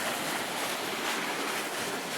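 Water churned out by a levee drainage pump pushing excess field water, heard as a steady, loud broadband rush with wind buffeting the outdoor microphone and no voices.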